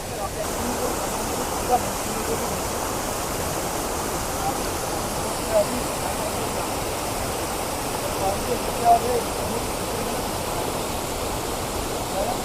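A river stream runs beside a riverside homestay in Murti, Dooars, giving a steady, loud, broadband rush of flowing water that continues unbroken throughout with no distinct events.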